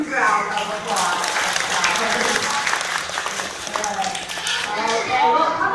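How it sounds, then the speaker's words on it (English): A crowd at a parrot show at Pleasurewood Hills, Great Yarmouth, breaks into loud, sustained applause and clapping, with children's voices calling out in the mix throughout. "I think it deserves a huge round of applause."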